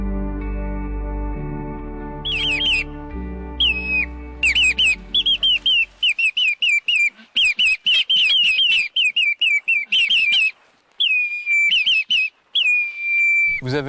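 Two men whistle in imitation of bird calls, a run of sharp, high chirping and trilling phrases in quick bursts, loud and close, following a sustained low tone at the start.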